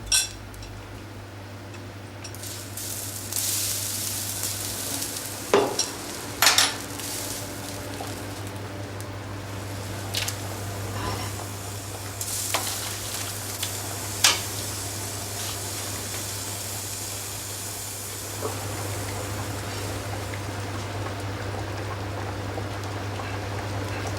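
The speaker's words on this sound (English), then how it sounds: "continue boiling briskly, uncovered, for another 5 minutes" A pot of seafood broth boils briskly and uncovered with a constant low hum, small pops and occasional clinks of utensils over the bubbling.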